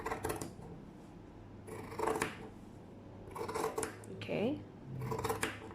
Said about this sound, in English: I'm going to cut the fabric according to the line that I've marked.